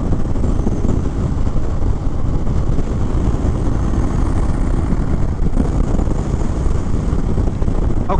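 A 2021 Indian Chief Bobber Dark Horse motorcycle on a test ride, its engine a constant loud drone smothered in heavy wind rush, with no voices.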